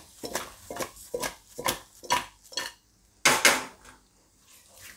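A spoon clatters against a pan while onion potato curry is mixed, a quick run of rhythmic metallic knocks and scrapes, a short pause, then a couple more louder clanks.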